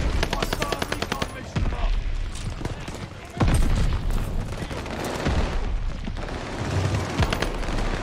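Rapid automatic fire from the H4 Blixen gun in Call of Duty Vanguard, loud sustained bursts of gunshots with booming impacts and explosions mixed in, dense and continuous throughout.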